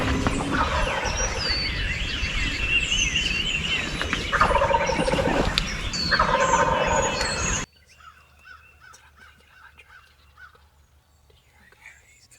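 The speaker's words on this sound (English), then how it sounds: "they strut and they gobble their heads off and chase each other around" Wild turkey gobblers in spring strutting and chasing each other, gobbling loudly and repeatedly over a dense outdoor background with other birds, then cutting to a much quieter stretch with faint distant calls.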